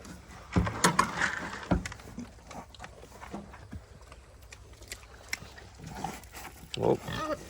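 Pigs grunting and snorting nearby on a farm in short irregular bursts, with some rustling and shuffling around them.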